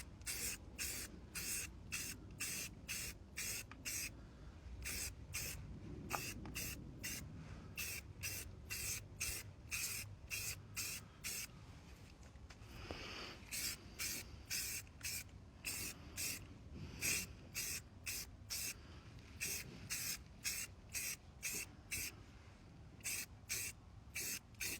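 Spray can hissing in rapid repeated bursts as old Chevy truck wheels get a thin coat of paint, steady rhythmic short blasts close to the mic.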